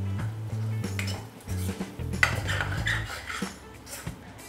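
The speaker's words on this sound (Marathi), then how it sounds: "कांदा हलवत राहायचा आहे, नाही तर मग तो जळू शकतो." Onions stirred with butter in a pan for pav bhaji, a spoon clinking and scraping against the metal in repeated strokes over a low sizzle, with a low background hum.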